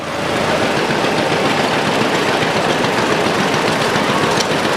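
A 1949 Farmall M tractor idles steadily at a county fair tractor parade, its engine giving a continuous, fairly loud low rumble with a rough mechanical texture and no talking over it.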